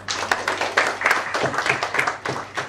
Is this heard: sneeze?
no